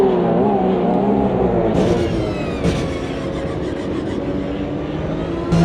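Porsche 911 Cup race car at full throttle down the main straight at the Long Beach Grand Prix, engine roaring loud and close from onboard with rising revs and a sharp gear change partway through.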